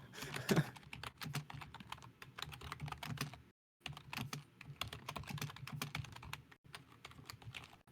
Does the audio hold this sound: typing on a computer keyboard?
yes